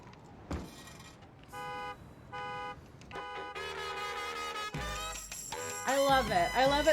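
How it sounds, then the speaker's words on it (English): A car alarm's repeating electronic tones are woven into a music track, with steady harmonic pitches that step and warble over the band and brass, growing louder toward the end. "a car alarm is, like, the most annoying noise on the planet"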